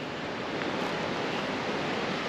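Water released through a river levee outlet, a dense, steady rushing roar like a small waterfall, continuous and fairly loud throughout with no voices.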